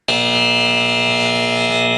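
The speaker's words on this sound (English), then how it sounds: "And we're going to give you the buzzer." A game-show style buzzer sounds on a live stream, one loud, flat, harsh electronic tone held steadily for about two seconds.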